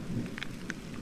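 Heavy rain beats down steadily during a storm on farmland below a plateau, a dense constant wash with a few brief sharper splashes.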